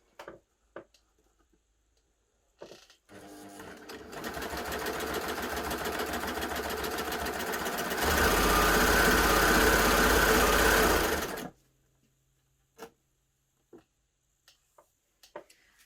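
A Baby Lock Gloria combination cover stitch and overlocker sews a narrow cover stitch in one continuous run of rapid, close mechanical whirring that speeds up and grows louder partway through, then stops, leaving scattered small clicks.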